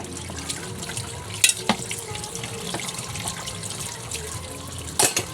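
Dishes being washed under a running kitchen tap, with a steady water rush and scattered clinks and knocks of plates and utensils, close up and with no talking.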